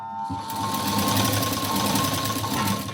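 A sewing machine stitches a folded cloth strip into cord piping with a continuous close-up mechanical whir, fast and even from start to finish.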